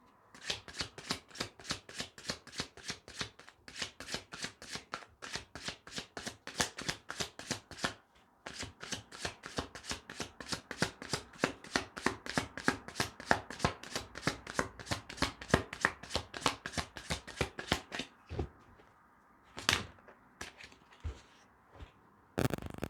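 A deck of tarot cards riffled and shuffled in rapid, continuous bursts of crisp flicks, close by, with a couple of sharper taps near the end and no talking.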